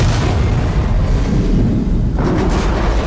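A bomb detonates in Alien Isolation, a loud, sustained boom with rolling low rumble filling the whole moment, briefly dipping before surging again.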